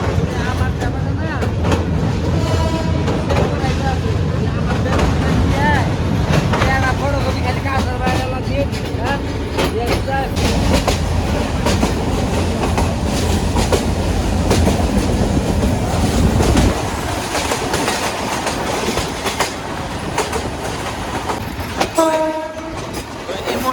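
A commuter train rumbles steadily along the tracks with rhythmic clatter, loud and close throughout, the heavy low rumble easing off near the end as it enters Gafargaon railway station, Bangladesh.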